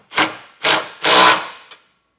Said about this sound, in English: you can use a 3/4 inch socket to snug those down